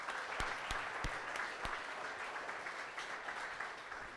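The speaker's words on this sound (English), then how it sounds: "Let's get another big round of applause for them." A crowd claps continuously in sustained applause, a dense patter of hands with a few louder sharp claps near the start, steady and moderately distant.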